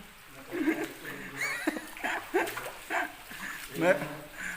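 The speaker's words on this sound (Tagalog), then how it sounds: "Mayroong asong nakapasok dito sa loob, si Blackie" A dog inside a guano cave gives several short yips and whimpering barks at intervals, moderately close with echo, amid people talking.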